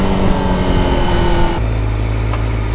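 Honda CBR1000RR-R Fireblade SP sport motorcycle engine running loud and close, a steady sustained rev that suddenly drops to a lower, rougher idle about halfway through, with no talking.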